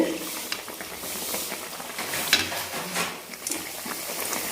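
Shredded cabbage cakes fry in hot oil for a Tamil tea-shop snack, a steady close crackling sizzle with faint stirring and a light metallic scrape near the middle.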